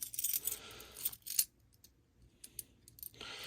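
Metal keys jangle and clink in short bursts while the right one for a fire alarm panel is sought. A quiet pause falls in the middle before the jingling resumes.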